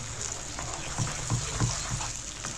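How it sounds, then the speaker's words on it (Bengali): Chicken pieces being slowly sautéed in spices for Afghani chaap in a home kitchen: a steady close sizzle with soft, irregular stirring knocks and no one talking. "এই দেখুন আস্তে আস্তে কষছি"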